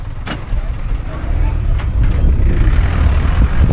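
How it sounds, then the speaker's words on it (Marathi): A vehicle carrying a wedding party drives along a road, its engine and tyre noise a steady low rumble that builds after the first half second and holds close and loud to the end, with a few brief knocks on top. "चला ही वराडीची गाडी चालली आपली."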